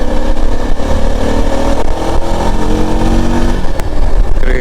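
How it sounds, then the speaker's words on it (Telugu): Yezdi Adventure motorcycle engine gives a loud, steady, throaty exhaust note at close range, holding a continuous drone with slight rises in revs throughout. "క్రేజీ ఉంది కదా ఎగ్జాస్ట్ నోట్."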